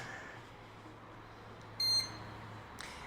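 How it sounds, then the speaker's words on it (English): A motherboard POST beep sounds once as a short, sharp electronic tone, with a second fainter beep starting near the end, over a quiet PC fan hum during GPU overclocking. "have I ever said that I hate the post beep from this motherboard?"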